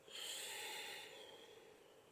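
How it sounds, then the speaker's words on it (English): A single long, soft exhale through the nose during a yoga forward fold, close and quiet, swelling briefly and then tapering into faint hiss. "Full breath in. Full breath out."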